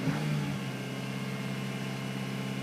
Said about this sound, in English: It's on park. You try to mash the throttle.